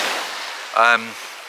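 Steady broadband rush of ocean surf washing in at high tide, with a brief harmonic burst like a voice or call rising over it near the middle.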